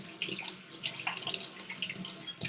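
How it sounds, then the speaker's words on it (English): Cold tap water runs steadily from a faucet over hands being rinsed at a kitchen sink mid-bake, a close, continuous splashing patter with no voices. "So I just rinse them in cold water"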